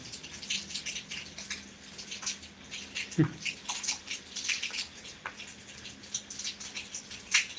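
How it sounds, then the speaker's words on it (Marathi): Rain comes down in Beed with a light, even patter and irregular nearby drips, plus one brief louder knock partway through. "पाऊस आहे चालू आहे बघा हे बघा"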